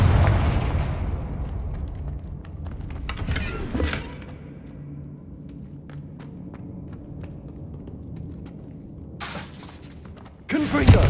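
Confringo fire spell from Hogwarts Legacy, cast repeatedly: a sharp burst near the start, another blast around four seconds, then crackling bursts late with a loud final impact, over steady game ambience.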